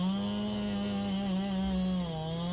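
A Stihl 046 chainsaw with a longer bar cuts into a fair-sized poplar tree, giving a loud, close, continuous buzzing engine drone whose pitch sags slightly near the end.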